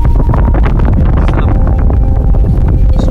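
Strong wind roars and buffets around a sailing yacht anchored near a mountain, loud and continuous, with microphone rumble and no talking.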